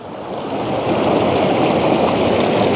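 Water pours steadily out of a stream pool at its outflow pour-off, a close, continuous rushing and splashing that holds an even level throughout with no one talking.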